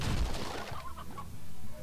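A hen in the video game Slime Rancher gives a short burst of clucks, close and fairly clear, with quieter trailing calls afterward.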